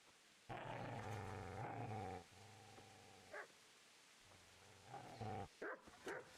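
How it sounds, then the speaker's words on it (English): Dog in the video game Kingdom Come Deliverance growling and barking, a long snarl followed by a few short sharp barks and yips, fairly close, with no talk over it. "Get away, you mutt!"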